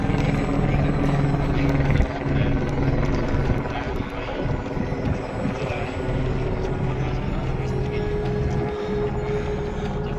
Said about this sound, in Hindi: वो हेलीकॉप्टर जा रहा है